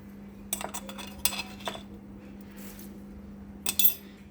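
Poha being tossed with tomato, spring onion, tempering and salt in a metal vessel, giving a few scattered clinks and scrapes of a spoon against the dish with quiet gaps between, close and fairly soft, no voices.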